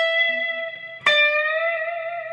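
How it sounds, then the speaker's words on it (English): A single electric guitar note on the second string, bent up a whole step, rings out clean and sustained, then is struck again midway and holds to the end, with no other sound. "So we're bending up a whole step to basically sound like this note."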